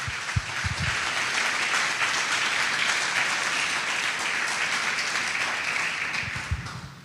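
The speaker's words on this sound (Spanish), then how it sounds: "Si se le va a dar un aplauso al Señor," A church congregation applauding during a Spanish-language sermon, a sustained dense wash of clapping from many people lasting several seconds, with a few louder thuds near the start and end.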